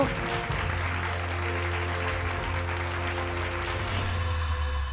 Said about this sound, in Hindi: जोरदार तालियां इस अवार्ड के लिए